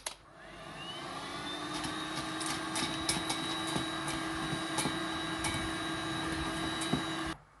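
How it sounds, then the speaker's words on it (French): A heat gun blowing hot air to melt white chocolate gives a loud, steady whirring roar with a high whine that starts abruptly and holds evenly for about seven seconds before cutting off. "J'utilise encore mon décapeur thermique, sinon on peut le faire au bain-marie"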